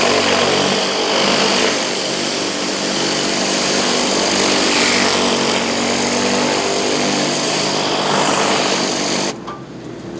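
A generator powering a hot water pressure washer drones steadily and loudly as one continuous engine hum, then drops away sharply in the last second.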